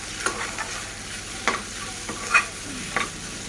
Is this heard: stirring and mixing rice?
yes